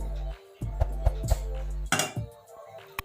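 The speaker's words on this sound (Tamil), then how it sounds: "இதை மூடி போட்டு மூடிடுவோம்" A metal lid set onto a pot of cooking chicken gravy with a few clinks and clatters, close by, among soft kitchen handling noises.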